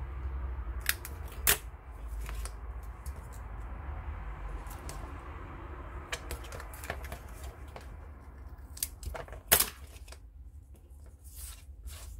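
Scissors snip through craft material from a creative kit for a boot-shaped pen holder: a series of sharp, close cuts and crisp snaps, spaced irregularly over soft rustling handling noise.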